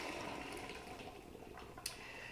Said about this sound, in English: Now we're going to strain off our chickpeas from the cooking water first of all.